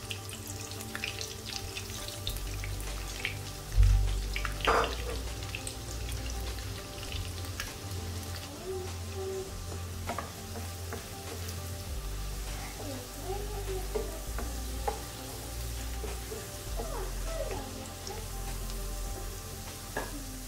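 Garlic frying in hot oil for a Rui fish curry, a soft continuous sizzle with intermittent stirring clatter and a sharp knock early on, someone speaking at times over the cooking.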